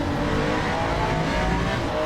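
A Ferrari race car's engine revs hard and steadily through a racing video game corner, a loud continuous drone with rising and falling pitch and no talking.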